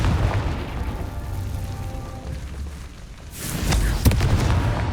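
Confringo fire-blast spell from Hogwarts Legacy, a muffled rumbling game background giving way to a loud, sharp burst near four seconds with a heavy low boom trailing after.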